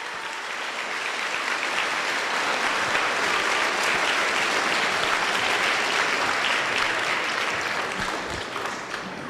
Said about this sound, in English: If we could have a nice round of applause for our musical groups and their directors.